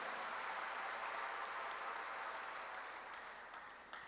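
A church congregation applauds steadily during a sermon, a dense wash of clapping that holds evenly and then slowly tapers off toward the end.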